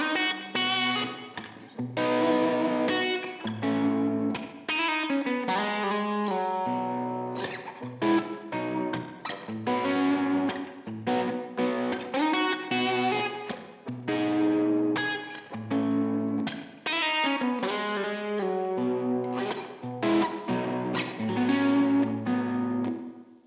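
Gibson Les Paul Supreme Florentine semi-hollow electric guitar played with chords and single notes, coloured by distortion, chorus and echo effects, heard alone without talking.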